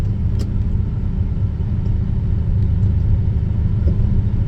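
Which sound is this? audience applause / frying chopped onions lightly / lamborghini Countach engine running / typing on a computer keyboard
lamborghini Countach engine running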